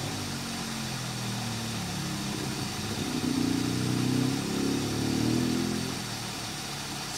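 A 1971 Lincoln Mark III engine idles, still cold, after its carburetor overhaul. It makes a steady low rumble at close range that swells briefly in the middle and then settles back to an even idle.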